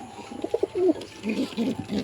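Native pigeons coo softly from inside their coop, several low rolling calls in close succession, near and fairly clear against a quiet background.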